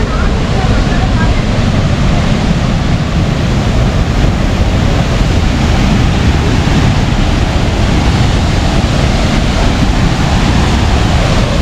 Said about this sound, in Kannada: ಆಲ್ರೆಡಿ ನೋಡಿ ಹೇಗೆ ರಶ್ ಆಗ್ತಾ ಇದೆ ನೀರು ಅಂತೇಳಿ.